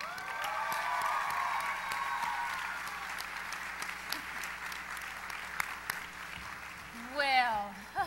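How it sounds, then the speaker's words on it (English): A large audience applauds the president of the Miss Universe organization at the Miss Teen USA 2010 pageant. The dense, steady clapping fills most of the stretch before fading, and a voice speaks near the end. "let's give a big round of applause for the president of the Miss Universe organization"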